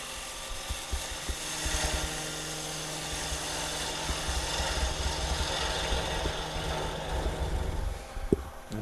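A wood bowl spinning on a lathe while a cutting tool rides the bevel into the surface, a steady motor whir with rough scraping cut noise and occasional knocks, close by, no speech.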